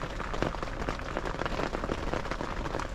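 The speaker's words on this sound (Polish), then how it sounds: "dzień pod namiotem, w deszczu." Steady rain drums on a tent during a storm in Peniscola, a dense, continuous close patter of drops on the fabric with no voices.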